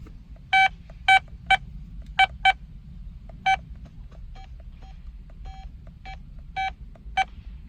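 The built-in car phone of a 1998 Lexus GS 400 powers up with a string of about a dozen sharp electronic beeps, some in quick pairs and others spaced apart, loud and close over a low background hum.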